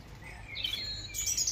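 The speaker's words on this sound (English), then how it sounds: "It's robin singing." Bird song of a robin: a few high, thin whistled phrases, fairly faint against a quiet outdoor background.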